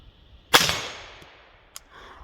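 A gas piston airsoft rifle, a Taiwanese T91 clone with a Wolf A1 upper, fires one sharp shot at steel targets, followed by a long decaying ring and a brief metallic ping about a second later.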